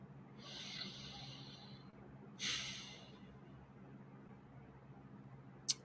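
A group inhales and exhales together, two soft, airy breath swells rising over a low steady room hum, with a sharp click near the end.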